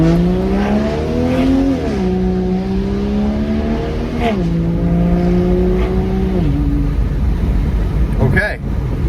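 A Volvo pulls onto a main road at half throttle, its engine note climbing in repeated rising pulls with brief dips at gear changes, loud and close throughout.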